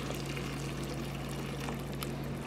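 Boiled water poured into a pot of beef stew with carrots, a steady continuous splashing pour with a constant low hum beneath, close and even throughout.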